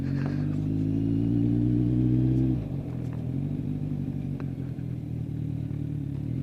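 A Kawasaki Z1000 SX sports tourer motorcycle engine pulls hard under acceleration, loud and steady, then drops in pitch after an upshift and carries on at a lower drone with some wind and clatter.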